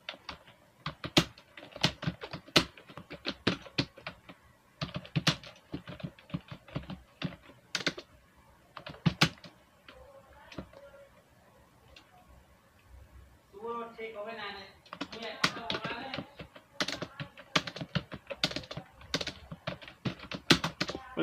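Computer keyboard typing, with quick irregular key clicks continuing through most of the stretch, and a person speaking over it midway.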